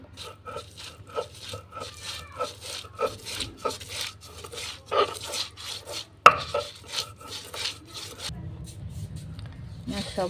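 Ginger, along with onion and green chilies, is ground into paste by hand on a stone. The grinding makes rhythmic rasping strokes in a steady back-and-forth pattern, and a pause in the middle is followed by a different scraping motion near the end.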